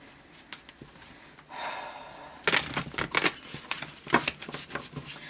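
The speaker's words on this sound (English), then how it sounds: "I've already cleared and shuffled these cards, but I'm going to give it just another little quick flip" Round tarot cards being shuffled make a brief hiss, then a burst of quick riffling flips and soft card slaps, close and fairly loud, with no talk.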